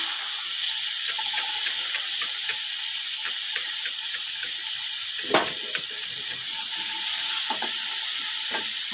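Tomatoes frying in a pan give a steady, close sizzle throughout, with occasional sharp crackles and pops from the hot oil.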